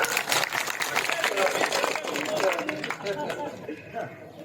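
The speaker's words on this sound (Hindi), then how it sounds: "ताली जोर बताओ एक बार।" A crowd at a welcome reception in Malsisar claps and cheers, dense overlapping applause mixed with loud crowd chatter, steady and close, easing slightly toward the end.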